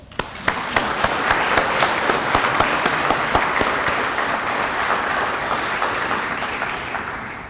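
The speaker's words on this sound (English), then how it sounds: "Can we please give them a round of applause?" An audience at a university alumni awards ceremony claps steadily for several seconds. The applause starts quickly, stays dense and even throughout, and is heard without any voices over it.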